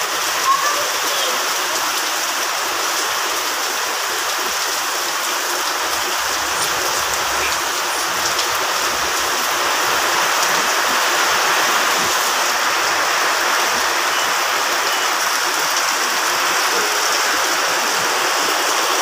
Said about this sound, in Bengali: ওই যে দেখুন কি বৃষ্টি হচ্ছে,